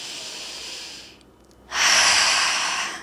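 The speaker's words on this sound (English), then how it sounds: "Breathing in and out." During chair yoga, one long, soft exhale is followed by a brief quiet gap and then a louder, breathy inhale, close up with no talk.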